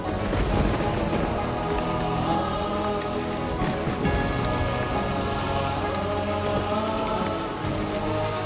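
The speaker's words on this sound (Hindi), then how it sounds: "कितनी तेज बारिश है आज" Heavy rain pounds down on surfaces nearby, a dense, loud, continuous patter and drumming with scattered sharper drips throughout.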